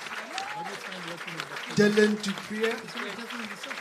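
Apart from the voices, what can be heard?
applause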